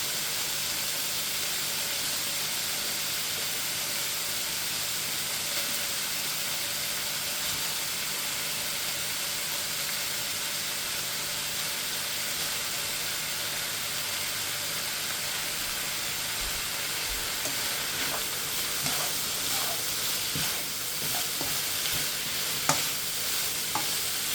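Large onion pieces fry in a chicken and vegetable stir-fry, a steady loud sizzle and hiss that runs throughout, with faint clinks and scraping of stirring toward the end.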